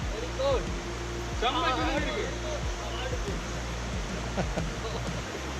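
River water rushing over rocks at a crossing on a forested hill trail, a continuous broadband wash of flowing water with footsteps and talking voices over it.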